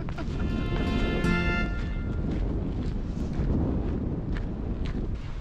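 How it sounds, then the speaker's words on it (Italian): Steady wind rushes outdoors on a hillside walking route along the Camino de Santiago, buffeting the microphone as a broad continuous roar, with a brief tonal whine early on and a voice faintly underneath. "ehi, c'è il vento."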